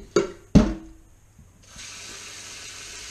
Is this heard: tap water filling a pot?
yes